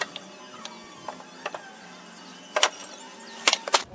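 Close metallic ratcheting and clanks from a wrench bolting a castor wheel onto an old steel lawn mower, faint mechanical ticks early, then louder bursts of rapid ratchet clicks near the end.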